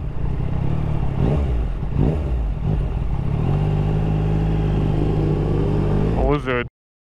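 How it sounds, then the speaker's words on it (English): A motorcycle rides close by with a steady engine drone that rises and falls with throttle changes, loud and continuous, before cutting off abruptly at the end. "Shone je uzeo novu motor."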